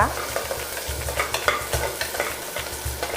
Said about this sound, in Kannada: ಬಾಡಿಸ್ಕೊಳ್ಳೋಣ ಒಂದೆರಡು ನಿಮಿಷ.